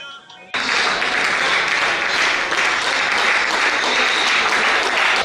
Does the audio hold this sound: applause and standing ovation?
yes